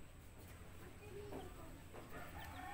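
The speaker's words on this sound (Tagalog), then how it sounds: "nag-iisang manok ang kanyang inaaligaan" A lone chicken in a rural backyard gives a few soft, faint clucks over a steady low background hum, with no one talking.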